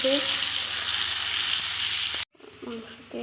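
Potatoes frying in hot oil, a loud continuous sizzle that cuts out abruptly, then resumes more quietly with a few brief clinks.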